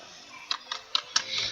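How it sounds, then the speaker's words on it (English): A computer keyboard clatters in about four distinct, crisp key taps at uneven intervals, close and alone, followed by a soft hiss. "I think bro's typing"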